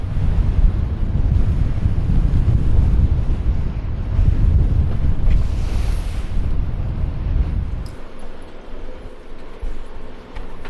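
Strong wind roars across the microphone on a sailboat in winter off Scotland, with waves washing and slapping the hull, loud and buffeting before easing toward the end.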